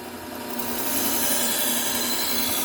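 A Wusthof kitchen knife is sharpened on a Trizact A30 600 grit belt, a steady close grinding hiss from the moving abrasive belt that swells slightly and then holds constant.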